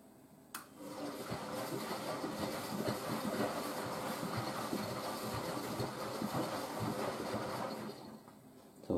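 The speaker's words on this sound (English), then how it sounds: "So this is the second rinse, the additional rinse this machine does." A washing machine on its additional second rinse with sheets and mattress protectors makes a steady churning, sloshing rumble that runs continuously and fairly quietly, with a brief click at the start and the noise dropping away near the end.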